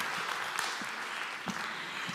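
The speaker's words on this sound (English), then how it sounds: "Big round of applause." Audience applause at a motivational talk, a steady wash of clapping filling the room at moderate volume for a couple of seconds, with no voices over it.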